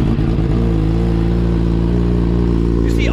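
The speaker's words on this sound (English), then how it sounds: "Cold start on it" A 2022 Suzuki Hayabusa motorcycle engine fires up from cold and settles into a loud, steady idle with a deep throbbing rumble.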